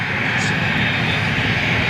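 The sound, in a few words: airliner jet aircraft at Manchester Airport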